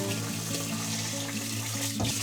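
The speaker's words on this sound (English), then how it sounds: "Add water and immediately discard the cloudy water." Tap water runs steadily into a pot while rice grains are rinsed, a continuous close hiss and splash with a faint low hum underneath, no talking.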